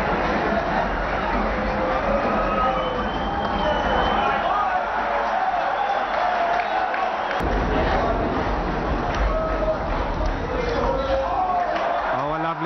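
A cricket stadium crowd roars for a hit to the boundary in a Pakistan match, a dense, continuous wash of cheering and babble holding loud throughout.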